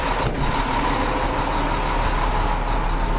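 Heavy dump truck engine labouring steadily at a demolition site as its wheels spin out, a loud continuous drone with no breaks throughout.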